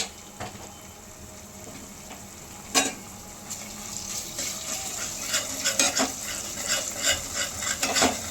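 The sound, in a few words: ginger garlic paste frying and stirring in pan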